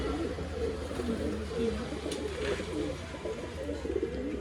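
Pigeons for sale in Bangalore coo steadily throughout, a dense mix of low throaty calls from several birds close by, with faint background voices.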